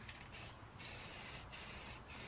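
A spray paint can sprays Regal Red paint onto a Yardman MTD lawn tractor part in several close hissing bursts separated by short pauses.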